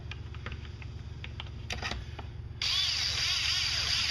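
Light clicks and ratcheting from a screwdriver snugging three screws onto a chainsaw carburetor, close and faint, followed by a sudden louder whirring hiss that holds steady to the end.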